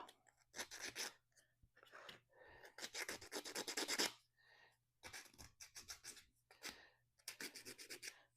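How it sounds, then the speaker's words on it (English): Repeated scraping rasps in short bursts, close and moderately loud, with brief pauses between strokes, like something small being sanded by hand. "Oh, it doesn't need a lot of sanding, so that's good."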